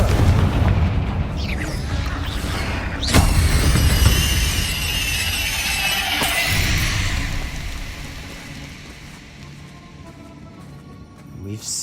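Confringo spells detonate in the Hogwarts Legacy video game, heavy booming blasts with a sharp crack and bright fiery bursts, loud and close, followed by rumbling debris fading into quieter game ambience.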